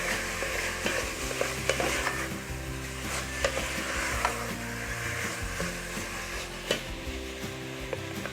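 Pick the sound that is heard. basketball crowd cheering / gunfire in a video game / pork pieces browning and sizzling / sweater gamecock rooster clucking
pork pieces browning and sizzling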